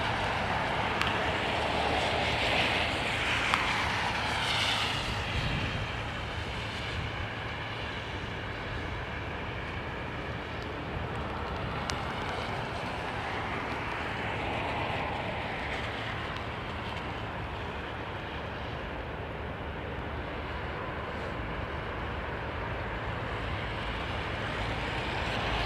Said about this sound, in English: these are the hinged reversers on the Trent 700